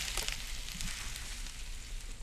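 Meat frying in the cooking video game Cucina Stellata, a steady broadband sizzle that holds at an even level throughout with no talking over it.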